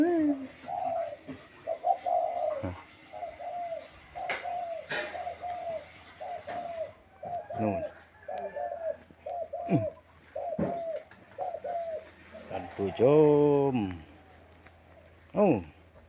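Spotted dove giving repeated soft hollow coos in short rhythmic phrases, fairly close in a quiet garden, with someone talking and imitating the call by voice in between and over the cooing.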